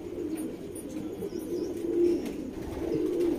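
A Saharanpuri pigeon coos softly and steadily nearby, a low continuous warbling murmur with a few faint chirps in the background.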